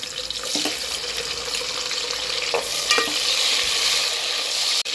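Onion sizzling in hot ghee and oil in a pot with curry leaves, a steady bright hiss with occasional stirring clinks and scrapes, close and continuous.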